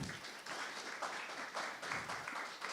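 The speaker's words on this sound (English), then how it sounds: "Please give them a round of applause." An audience at a business alliance meeting applauds in a steady wash of clapping that holds through the whole moment, fairly even in level and heard without speech.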